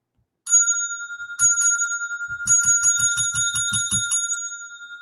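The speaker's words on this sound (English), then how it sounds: "You get the special bell for the night." A special bell rung to thank a super chat during a live stream dings clearly, first with two single strikes and then with a fast run of about ten bright rings that fade out, with no talking.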